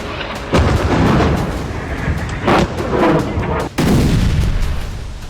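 Artillery shelling and explosions in Crimea: loud, dense booms and blasts rumble continuously, with several sharper bursts punctuating the roar.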